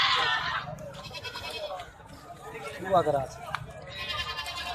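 Goats, including castrated males, bleat at a goat farm, with loud, wavering cries at the start and end. Someone talks steadily over the animals in between.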